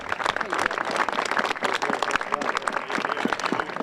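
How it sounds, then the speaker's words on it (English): An outdoor crowd at an immigration day of action in Denver claps for city council members, loud and dense with sharp individual claps standing out throughout. "Please give them a round of applause."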